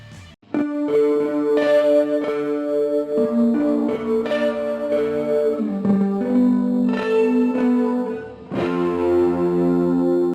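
Guitar played through two identical effect plugins stacked in a chain gives a processed, effected tone, with sustained chords and notes shifting over about ten seconds and no talking.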